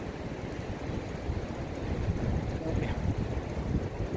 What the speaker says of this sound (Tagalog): Ingay ng alon yan.